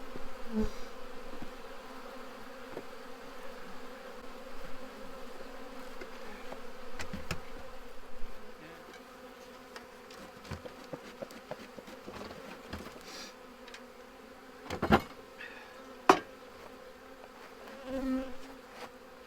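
Honey bees buzzing around a hive during a transfer into a new Apimaye hive, a steady droning swarm close by with occasional louder passes of individual bees near the microphone.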